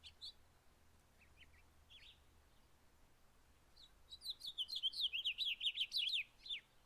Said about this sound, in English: that's Red House Finch song